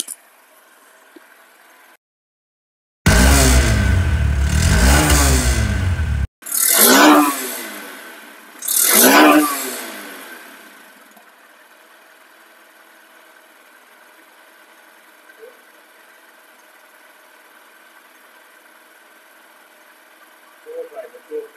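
A second-hand Honda SP 125 FI motorcycle in showroom condition starts with a loud sustained rev, then gives two sharp throttle blips that fall back to a quiet, steady idle, with faint sounds near the end.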